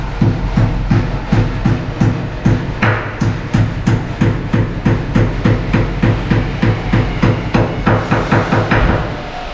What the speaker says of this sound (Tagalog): Napakabilis talagang mag-screw kapag ang gamit mo ay powerhouse cordless brushless impact drill